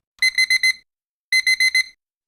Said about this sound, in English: that's exactly why I use a traditional alarm clock instead of my phone